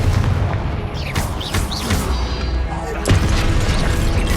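Explosive spell blasts in the video game Hogwarts Legacy: booming impacts and crackling bursts in a dense, loud stretch of combat, with a sharp blast near the end amid whooshing magic effects.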